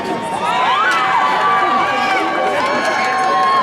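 A crowd cheers and whoops at a high school graduation ceremony, a sustained roar of many voices with shouts rising above it, steady and loud throughout.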